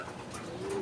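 A racing pigeon gives a soft, low coo against a murky background hum, brief and somewhat faint.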